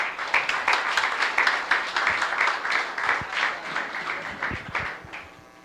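Audience at a church men's gathering giving a welcoming round of applause for a speaker, a dense mix of many hands clapping at moderate distance that gradually thins and fades out.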